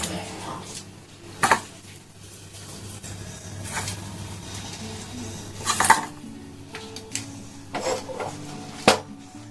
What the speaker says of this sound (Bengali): এখন এই মাছগুলোকে আমি দিয়ে দেব।